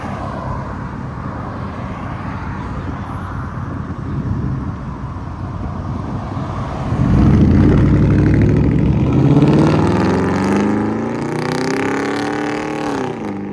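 A 2013 Chevy Silverado 5.3L V8 with true dual straight pipes idles with a low rumble, then revs hard into a loud roaring blip whose pitch climbs and falls back, close by and with no voices over it.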